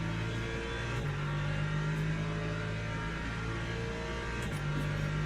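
An LMP3 prototype race car engine in the sim racing game Le Mans Ultimate, a steady droning hum held throughout with a slight pitch step, continuous and moderately loud.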